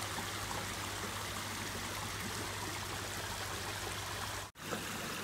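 Small waterfall pouring into a koi pond, a dense, steady rushing splash that stays loud and unbroken, with a brief dropout near the end and no voices.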